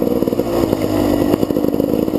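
A GasGas motorcycle running on its original, never-rebuilt engine, loud and close, with a rapid, clattery chugging rumble that swells briefly as it revs, with no voices.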